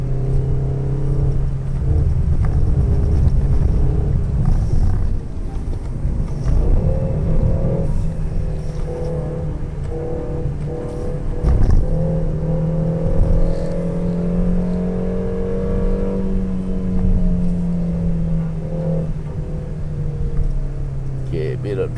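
A Peugeot 3008 drives up the Genting hill climb, its engine droning steadily and rising and falling with throttle, heard from inside the cabin under occasional talk.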